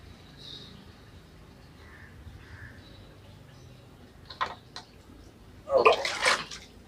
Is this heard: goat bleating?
no